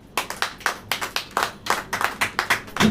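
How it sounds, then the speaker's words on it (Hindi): A church congregation claps in a Hindi Christian service, a dozen or so sharp, fairly quick hand claps landing close together in an uneven rhythm, loud and near, with no talking over them. "ताली बजाइए।"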